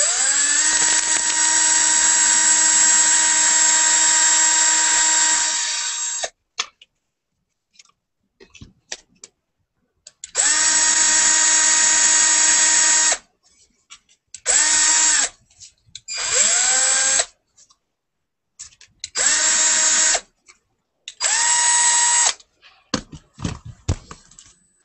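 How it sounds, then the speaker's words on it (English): A power drill whines loudly in a long burst while drilling a hole through a clay poker chip, then stops and restarts in several shorter bursts separated by silence and small clicks. "I can take my power tool, and I'm actually putting a little piece of cardboard underneath"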